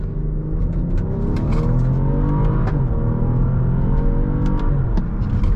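A 2016 BMW X5 SUV engine revs up loudly in first gear, its pitch climbing steadily, with a brief shift dip midway and then climbing again, close and continuous.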